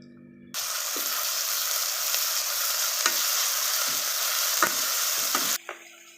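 Chicken sizzles and fries loudly in a pan for about five seconds, with several sharp scraping stirs of a utensil against the pan breaking through the steady hiss.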